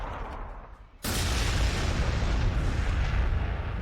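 Frag shells fired from artillery in the Warhammer 40,000: Sanctus Reach strategy game, Space Wolves campaign; after a quieter second, a sudden loud booming blast erupts and rolls on as a sustained, heavy rumble.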